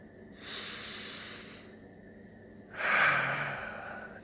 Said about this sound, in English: Sit and breathe.